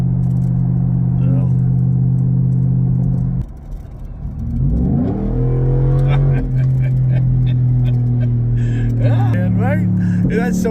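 The engine of a race truck rumbles at idle, dips, then revs up with a rising whine and settles into a loud steady drone, close by, with a voice speaking over it briefly.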